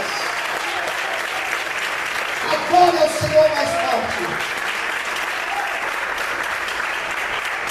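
A church congregation applauds during an evening worship service, the clapping rising under a preacher's continuing speech and a brief louder burst before settling back to a steady wash.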